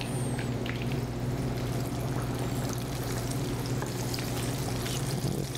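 Food frying in pure vegetable oil, a steady, dense crackle and sizzle that runs unbroken and fairly close, with no talking.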